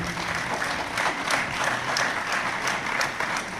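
An audience applauds at a memorial tribute for the Hon. Theo-Ben Gurirab, sustained clapping from many hands that swells slightly in places and stays moderately loud throughout.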